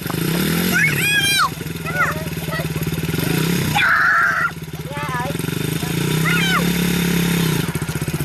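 A new motorcycle's engine idling and revving up as the clutch is slowly let out, a loud close mechanical drone under continuous talking.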